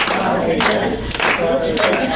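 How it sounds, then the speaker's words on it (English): Audience clapping along at a live comedy show, a fairly loud, continuous patter of many hands with rhythmic bursts, mixed with crowd voices calling out. "Just clap your hands over and over and say, bye, Brad."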